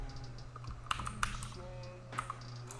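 Quiet, close typing on a computer keyboard, a few clustered key clicks with short pauses between them over a low steady hum; no talking.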